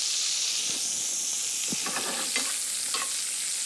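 Fruit sizzles in hot butter and sugar in a pan, a continuous bright frying hiss with soft stirring scrapes and small pops over it, close and steady with no talking.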